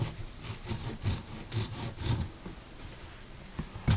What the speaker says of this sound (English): I'm going to clean off that stamp